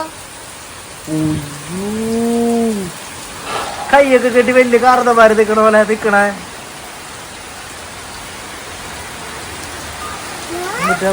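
Steady hiss of rain falling throughout, while a couple of voices talk and call out over it.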